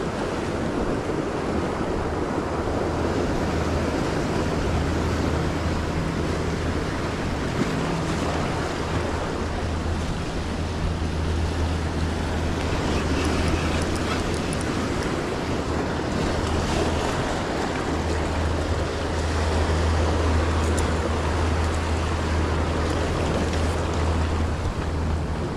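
Ocean waves and surf wash steadily along the shore, a continuous broadband rush with low rumbling swells and heavy wind buffeting the microphone, and no talking.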